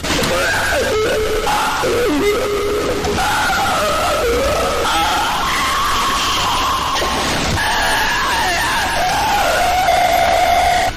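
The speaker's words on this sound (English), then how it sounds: "you can actually hear the moment where Dogday's legs are cut off and fall to the ground" Dogday, a Smiling Critters character in the Poppy Playtime Chapter 3 video game, screams and bellows continuously as his legs are cut off, a loud, harsh, wavering cry mixed with chaotic noise throughout.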